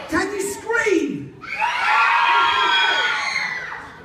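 A crowd of children at a live science show shouts, then breaks into a long, loud burst of screaming and cheering that holds for a few seconds before fading.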